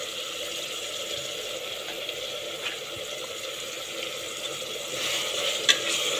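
Soft, steady sizzle of coriander and mint leaves sautéing in a pan with ginger-garlic paste, tomato and onion for mutton biryani, with faint stirring clicks and a small scrape near the end.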